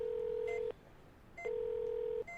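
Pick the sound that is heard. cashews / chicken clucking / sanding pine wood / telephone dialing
telephone dialing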